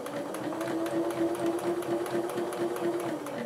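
Sewing machine stitching fabric along a 5/8 seam allowance, a steady rapid mechanical whir and clatter with an even rhythmic pulse, running continuously up close with no talking.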